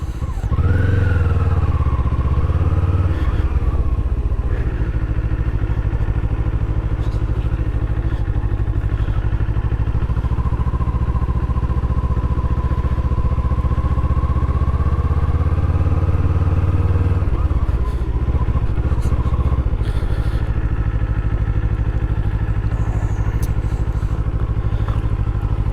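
A Kawasaki Eliminator 500 motorcycle on an afternoon ride drones steadily and loudly throughout, its engine note rising and falling slightly over continuous road and wind rumble.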